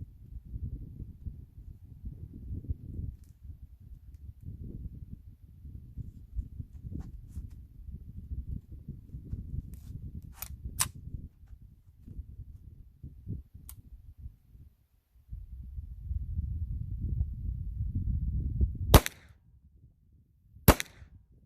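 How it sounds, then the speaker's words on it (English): Ruger PC Charger pistol fired at an outdoor range, a few sharp, distant-sounding shots spaced seconds apart over a low rumble of wind and handling noise. "I'm just going to feel the gun and feel how it shoots"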